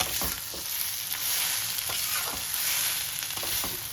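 Radish ghonto with potatoes and crushed fried bori stir-fried in a pan, a continuous close sizzle broken by scraping, clattering spatula stirs, with no talk.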